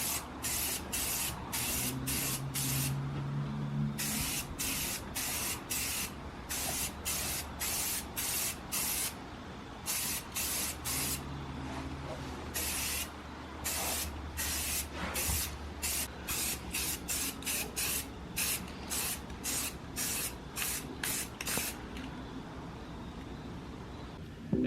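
Spray paint hisses out in repeated short bursts onto the headlights of a Genesis Coupe during a blackout coat, the rhythmic pulses close and clear, with no talk.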